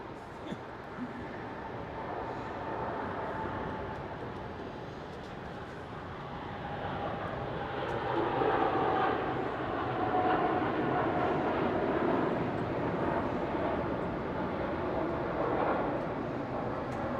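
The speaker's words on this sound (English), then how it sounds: "Runway 27, cleared for takeoff." An airliner taking off from runway 27 at Melbourne Airport, a distant broad engine roar that swells and holds steady, with faint talk underneath.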